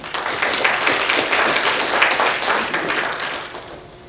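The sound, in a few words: audience applause at awards ceremony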